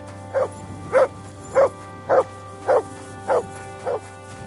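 Dog named Mats in a video game barking seven times in an even, steady rhythm, clear and close over a low background hum.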